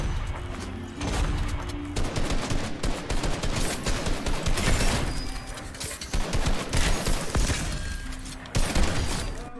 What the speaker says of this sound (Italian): Adesso proviamo con il fucile pesante a carica.